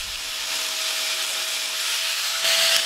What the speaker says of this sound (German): Die Schweißnaht wird wieder glatt geschliffen